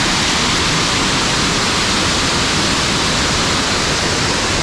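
Ebor Falls in New South Wales swollen after heavy rain, a loud, unbroken broadband roar of rushing water filling the whole scene, with one brief spoken word barely standing out.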